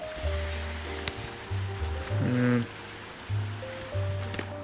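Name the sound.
garden pond water feature running water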